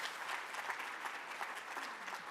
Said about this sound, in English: Round of applause for Lisa and her great leadership at ALEC